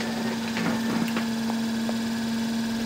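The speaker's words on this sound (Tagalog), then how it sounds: "Ayan, oh, umaandar na yung pan." A Daikin air conditioner fan motor runs with a steady, even electric hum and a faint mechanical drone, constant and close, with a few light clicks over it.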